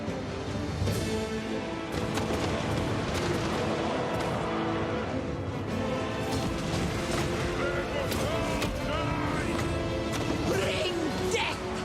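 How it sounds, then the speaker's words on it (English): Artillery and organ guns firing in Total War: Warhammer 3, a dense battle din of repeated booming blasts and crashes layered over constant orchestral music and clamour, loud throughout with no clear pauses. "Oh, the artillery are shooting after me."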